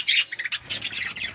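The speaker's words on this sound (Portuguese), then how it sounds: "Atualização dos periquitos australianos." Budgerigars kept in a colony give loud, close squawks and chirps in a quick burst of harsh calls lasting just over a second, with no talking.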